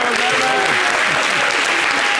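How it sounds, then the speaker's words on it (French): A television studio audience breaks into loud, dense applause, steady throughout, with a faint voice briefly audible beneath the clapping. "Merci de l'applaudir, c'est très bien."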